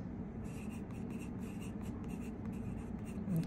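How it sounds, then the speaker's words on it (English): Someone writes notes by hand, close by, with a pen or marker scratching in short repeated strokes for several seconds. "let me just write it here"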